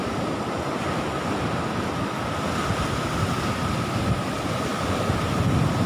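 Continuous rushing roar of strong northeast-monsoon surf breaking on Nong Bua beach in Thailand, dense and steady, with wind noise mixed in and no voices.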